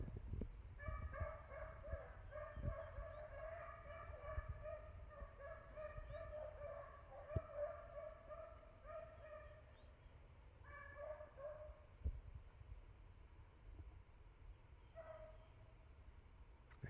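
Three hound puppies bay while running a rabbit in the woods, their drawn-out, wavering howls carrying from a distance in repeated bursts, then trailing off into faint, scattered calls.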